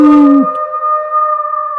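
A werewolf howl sound effect in a Peppa Pig Halloween story rises into one long, loud, sustained howl with a steady tone that slowly wavers as it trails off. Nothing else is heard alongside it.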